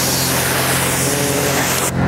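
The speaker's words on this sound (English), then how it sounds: "I knock it with water to get the heavy dirt off" A strong, steady hiss of pressurized water spraying against a ceramic-coated truck, knocking off heavy dirt, loud and continuous, cutting off abruptly at the end.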